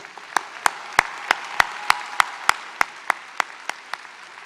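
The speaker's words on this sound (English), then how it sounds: "we show our appreciation with a round of applause" At a Northwestern State University of Louisiana fall graduation ceremony, a round of applause for faculty comes as a single person's sharp, evenly spaced hand claps, roughly three per second, over a quiet hall.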